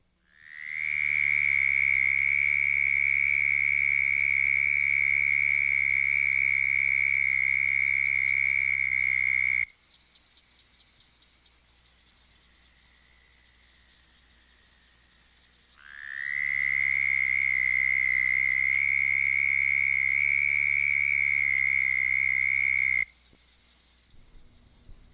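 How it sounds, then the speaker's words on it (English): Two long, sustained high-pitched trills from a southern toad (Bufo terrestris), each steady and loud and lasting several seconds, separated by a quiet gap, with no talking. "to produce a high-pitched trill of the southern toad,"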